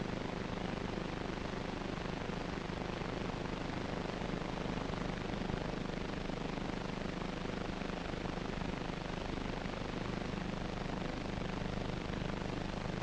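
An early-1950s helicopter takes off, giving a steady, loud, broadband engine and rotor roar that stays constant throughout with no voices.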